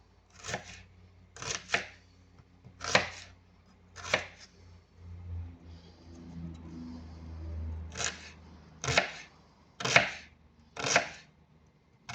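Onion is chopped into little pieces with a knife on a board, eight sharp, close, separate knocks in two bursts with a quiet gap between, crisp against a soft background hum.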